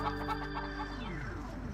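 Chickens clucking close by in a farm setting, with several short, throaty clucks and a drawn-out squawk rising over a steady background hum.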